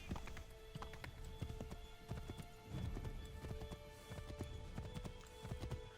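Horse hooves in the video game Assassin's Creed III after jumping a fence, a quiet, steady clip-clop gallop of repeated hoof strikes with no voices.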